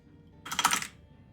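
A short burst of rapid keystrokes on a computer keyboard, typing a search term into a filter box in Path of Exile 2, clicking quickly for about half a second, then silence.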